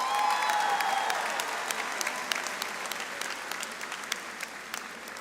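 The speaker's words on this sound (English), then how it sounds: "A round of applause for our fantastic class of" An audience at a high school graduation ceremony applauds the graduating class, a full burst of clapping that eases into scattered, sharper individual claps, with a brief tonal sound under it at the start.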